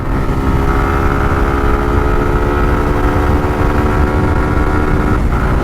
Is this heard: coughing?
no